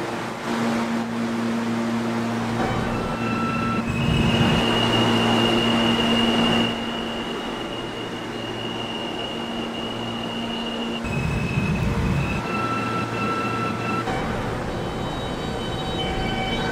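An R160 subway train on the F line in a Roblox game runs along the track with a steady loud rumble, a sustained electric motor whine and tonal hums that shift in pitch as it speeds up and slows.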